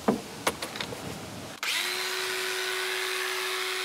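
A power tool sanding the wood of a children's treehouse playhouse kicks in after a few scattered knocks and clatters, then runs as a steady, loud, close whine without pause.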